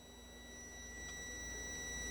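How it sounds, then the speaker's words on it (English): A faint, steady high-pitched beep from a continuity tester holds without a break, over a quiet background hum, while testing an arcade filter board. "Hopefully you can hear the beep."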